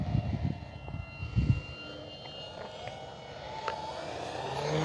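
An E-flite Carbon Z T-28, a 2.0 m radio-controlled airplane, drones through the air with its propeller at low throttle, a steady distant engine hum, with a few nearer muffled bumps near the start.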